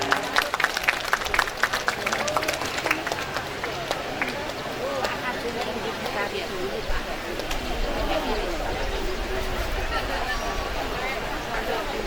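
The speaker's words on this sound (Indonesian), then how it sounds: "Mohon tepuk tangan yang meriah." Audience at a Muhammadiyah 111th anniversary celebration applauding a student arts performance, a dense, sustained wash of clapping and crowd noise throughout, moderately loud with some voices mixed in.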